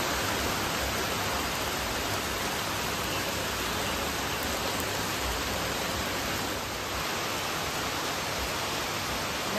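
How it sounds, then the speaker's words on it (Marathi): Heavy monsoon rain in the Konkan countryside, a dense, steady, loud hiss of falling water that holds unchanged throughout with no other sounds or voices. "आला आला आला आला पाऊस आला"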